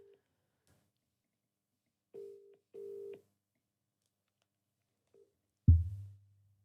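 A few short telephone keypad dialing tones in irregular sequence, faint and isolated in quiet, followed by a low thump at the end.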